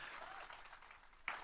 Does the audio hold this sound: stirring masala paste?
no